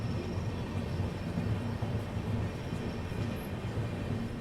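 Continuous low rumble of a passenger express train rolling slowly into Aligarh Junction after a long halt outside the station, steady and fairly loud with no talk over it.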